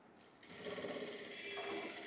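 A sewing machine stitches piping onto a boat-neck blouse. A close, even mechanical whir runs for about two seconds and speeds up slightly after a soft start.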